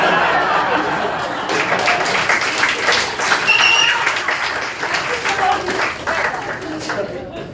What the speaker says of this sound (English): I can't believe that gets an applause